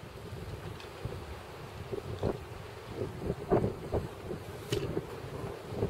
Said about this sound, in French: il y a tellement de bruit à cause du vent